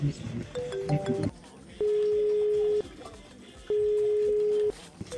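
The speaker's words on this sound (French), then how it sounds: "Ton téléphone sonne." A phone rings with two long, steady electronic tones, each about a second, separated by a pause, following a short burst of talk and noise at the start.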